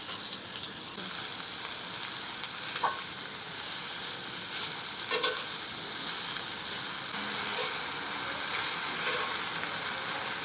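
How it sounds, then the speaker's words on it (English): Oyster mushrooms sizzle on a rooftop Weber grill, a steady, moderately close hiss and crackle with occasional small pops, heard alone without talk. "Can you hear that sizzle?"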